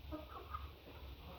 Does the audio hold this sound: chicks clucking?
yes